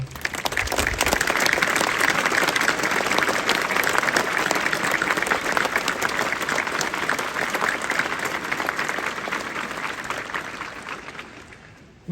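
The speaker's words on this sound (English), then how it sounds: "join me in a round of applause for the instructing staff" A crowd applauds at a police passing out parade in Scotland, a dense, steady wash of clapping that lasts the whole time and slowly fades toward the end.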